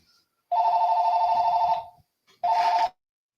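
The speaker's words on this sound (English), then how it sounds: "I haven't heard a house phone ringing forever." A house phone rings with a classic electronic trill: one long burst of about a second and a half, a short pause, then a second, briefer burst, loud and close, with no voices over it.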